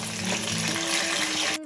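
Eggplant pieces for a curry sizzle and spit steadily in a hot pan, a loud, dense frying hiss that carries on without pause and then cuts off abruptly near the end.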